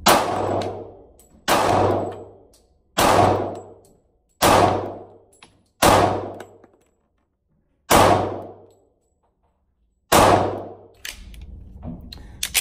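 A Smith & Wesson M&P Shield 45 pistol fires seven loud, sharp single shots, each ringing out and fading. The first five come at an even pace and the last two follow after longer pauses.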